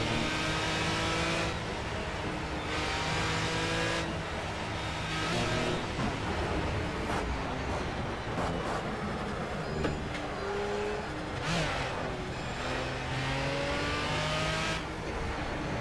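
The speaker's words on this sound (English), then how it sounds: "But it's nice to have a V12 car now." A V12 race car engine in the video game Project Cars revs loudly and continuously, with its pitch climbing and dropping through repeated gear changes, close and dominant throughout.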